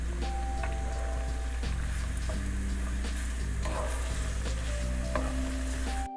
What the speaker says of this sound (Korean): 여기다가 아까 썰어놨던 파, 양파, 다진 마늘 넣고 먼저 볶을게요